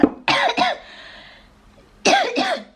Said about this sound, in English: They seem to be aggravating my cough.